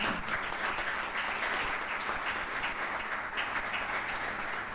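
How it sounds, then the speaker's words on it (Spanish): Sustained applause from an audience at the close of a cybersecurity conference talk, dense and even for several seconds, fairly distant and moderate in level. "Un aplauso, por favor."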